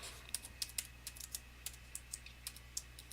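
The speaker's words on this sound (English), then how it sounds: "I have to manually type this" Typing on a computer keyboard at a terminal, a run of quick, light key clicks in an uneven rhythm with short pauses, close and fairly quiet over a faint low hum.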